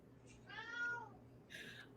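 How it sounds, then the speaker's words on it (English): A cat gives a clear, drawn-out meow and then a shorter second call, faint against a quiet background hum. "I hear kitty."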